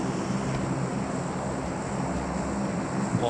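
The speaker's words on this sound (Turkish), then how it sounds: "Oha, 2 tane uçak yan yana." Two airplanes in the video game PUBG Mobile fly over, making a steady, broad engine drone that holds at an even level throughout.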